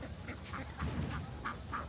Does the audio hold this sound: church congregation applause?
no